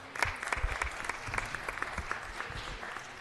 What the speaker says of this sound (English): And let's give a round of applause.